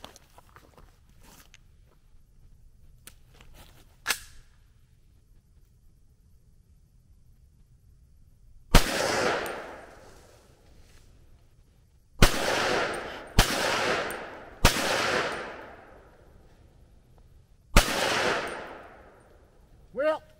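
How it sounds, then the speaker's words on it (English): 300 Blackout tracer rounds fired at steel targets, five loud sharp gunshots spread over the second half, each with a long ringing decay, after a quiet stretch of low background noise and faint knocks. "I saved some tracers for last. Shoot at some steel, cause it's cool!"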